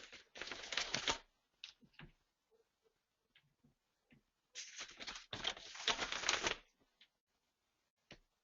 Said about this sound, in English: Patty, we're typing something in